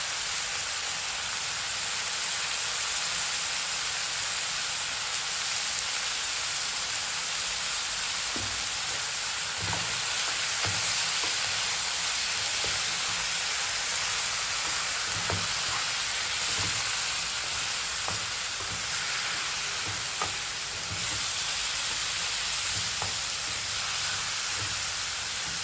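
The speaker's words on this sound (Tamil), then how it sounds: "வெறும் சிக்கன் மட்டும் போட்டு கிளறி விடுங்க" Chicken pieces frying alone in a pan for Tamil chicken uppu kari, a steady loud sizzle and crackle throughout, with occasional soft scrapes and knocks as the meat is stirred.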